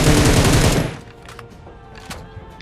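Rapid gunfire in a battle royale video game, a loud close burst in the first second that cuts off, leaving faint game ambience with a few small clicks.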